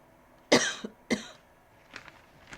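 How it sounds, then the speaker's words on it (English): Two sharp, close coughs from a man reading news aloud, followed by a couple of fainter throat sounds, with quiet room tone between. "Sorry for the coughing."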